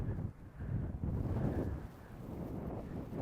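Gusty wind buffets the microphone on a Scottish links golf course, a steady low roar that swells and eases throughout with no voices.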